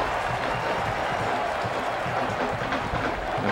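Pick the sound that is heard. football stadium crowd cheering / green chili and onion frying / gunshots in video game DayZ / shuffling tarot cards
football stadium crowd cheering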